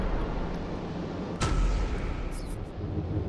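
A ship's cannons fire in the space combat game Ghost Signal: A Stellaris Game, one sharp blast cutting through a low, steady rumble of ambience, followed by fainter high-pitched effects.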